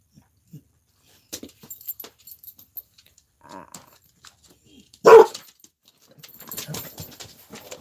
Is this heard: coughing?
no